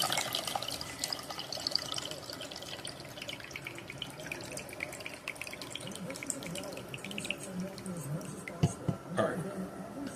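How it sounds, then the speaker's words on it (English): A cup rinsed under a running kitchen tap: steady, soft water flow with splashing and clinks, moderately close and quiet, continuing throughout with a few sharper splashes near the end. "it is time to wash this cup"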